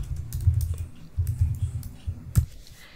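Code is being typed on a computer keyboard in a steady run of fairly close, soft key clicks, with one sharper keystroke near the end and no voices.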